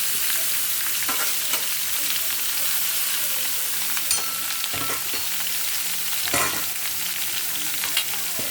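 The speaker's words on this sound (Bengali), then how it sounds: "উচ্ছে একটু হালকা করে ভেজে নিয়ে বেগুনটা দিয়ে ঢাকা দেবো" Bitter gourd and eggplant frying in a pan, a steady dense sizzle with occasional sharper spits and stirring scrapes throughout, close and continuous with no talking.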